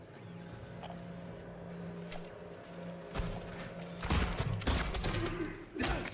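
Gunshots from a survival horror video game as the player fires at infected enemies, aiming for the legs; scattered sharp bursts grow louder and denser in the second half over a steady low game ambience.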